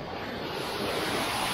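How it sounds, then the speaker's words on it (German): Water pours over the Weser weir as a steady, broadband rushing roar, close and continuous with no talk. "ich habe hier diese Weserwehr gefunden. Also da, wo Wasser runterfällt."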